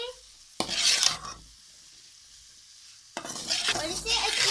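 Carrots and potatoes are stir-fried in a pan in two bursts of close, loud sizzling and scraping, separated by a quiet pause of about two seconds.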